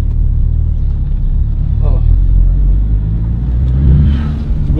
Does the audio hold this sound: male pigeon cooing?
no